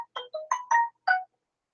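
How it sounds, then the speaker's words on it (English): A mobile phone chirps a quick notification ringtone for incoming live stream comments: four or five short melodic blips in a rapid run, clear and alone against silence. "Is that your phone, dog? That's my phone, man."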